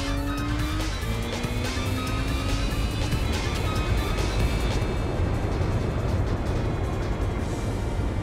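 Race cars in Gran Turismo 4 roar along steadily, engine notes rising and shifting as they overtake, with occasional tire squeal over a continuous, loud drone.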